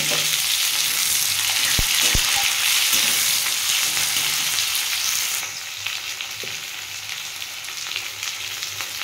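Onion frying in oil in a pan for a moringa-leaf mash, a dense steady sizzle throughout with a couple of faint utensil clicks, easing slightly softer in the second half.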